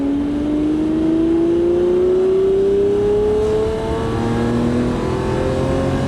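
A RAM TRX pickup truck with a 700-plus horsepower engine revving, a loud steady engine drone rising smoothly in pitch as it accelerates, close by with no talk.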